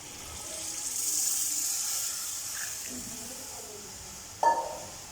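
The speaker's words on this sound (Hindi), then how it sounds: "और अब इसमें हम शामिल कर देंगे पानी चावल के हिसाब" Water pours into a cooking pot of browned chicken for pulao, a soft steady rush and hiss that fades, followed by a brief sharp clink near the end.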